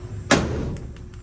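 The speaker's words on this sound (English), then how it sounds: "Doors closed all the way." A Chevrolet C10 pickup door shuts with a single solid thud at close range during fender alignment work in a garage, followed by a faint rattle and quiet room tone.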